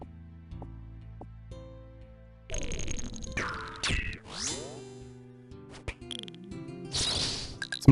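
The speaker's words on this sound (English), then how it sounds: "it's the sound of our stamina potion running out" Sparse video game sound effects as a stamina potion runs out: chirpy tonal blips and sliding pitch sweeps, with a bright burst near the end, mostly quiet between them.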